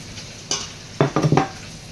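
Kinilaw ingredients with onions, ginger and chili being mixed by hand, a few short wet squelching strokes in quick succession, close and fairly loud with no talk.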